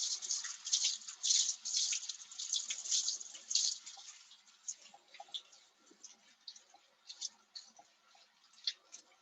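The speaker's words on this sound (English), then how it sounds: "I actually need to wash my whisk" Water runs from a tap over a whisk being rinsed, a steady hissing splash that is louder at first, then breaks into softer intermittent spatters and drips, close by with no talking.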